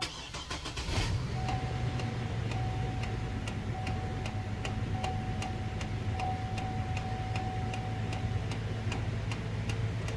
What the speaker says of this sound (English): Now it's clicking from the dash, which might be an actuator or something.